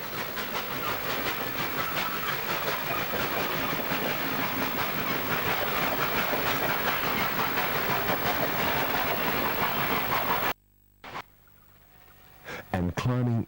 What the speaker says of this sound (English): sees 3803 climbing the grade between Jenali and Sutherland